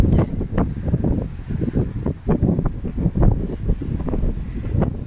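Steady seaside wind buffeting and rumbling across the microphone, gusty low roar throughout with no pauses.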